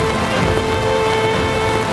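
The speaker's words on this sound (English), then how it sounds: "not long after we set out, the rain arrived." Steady, dense hiss of a downpour falling, constant and enveloping with no voices, a faint tonal hum running underneath.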